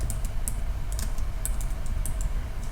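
Quick light keystrokes on a computer keyboard tap out a short entry in a brief, faint burst over low room hum.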